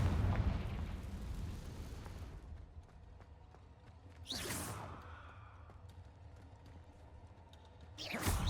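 A Confringo blasting spell goes off in Hogwarts Legacy, starting with a loud burst that fades into a low rumble, and then a sharp whooshing swell comes through near the middle and again at the end.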